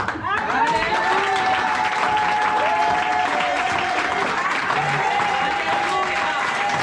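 A church congregation claps and cheers in acclamation, a dense continuous wash of applause with voices calling out and singing through it.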